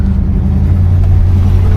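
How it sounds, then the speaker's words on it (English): Steady, loud engine hum and road rumble from inside a moving 1975 Buick LeSabre, constant and smooth with no voices. "the car is driving pretty smooth, honestly"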